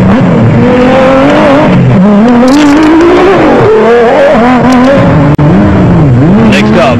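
An off-road race car drives through sugarcane fields at a South African off-road race, its engine loud and close, revving up and down with wavering pitch while a commentator talks over it.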